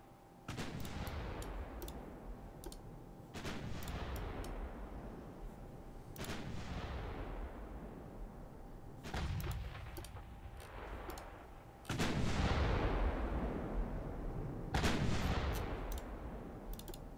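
Naval guns fire in the warship game Ultimate Admiral Dreadnoughts, with about six heavy booming salvos spaced a few seconds apart. Each blast has a long rumbling decay and there is faint clicking between shots.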